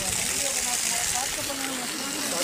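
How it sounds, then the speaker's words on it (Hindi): Mountain waterfall pouring down from above along the Amarnath pilgrimage trail near Baltal, a steady broad rushing hiss of falling water with faint voices in the background. "ये देखो झरना ऊपर से आ रहा है"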